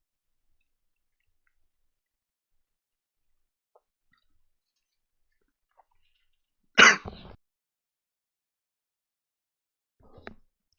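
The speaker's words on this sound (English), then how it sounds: "Sorry, just coughing my head off." One harsh, sudden cough from a person breaks through near silence, close to the microphone. A much fainter, brief throat sound follows a few seconds later.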